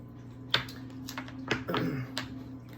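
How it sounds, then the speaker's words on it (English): Oracle cards are handled and pulled, giving a few soft taps and brisk flicks close by over a low, steady hum, with no talking. "I'm gonna pull some energy oracle cards here."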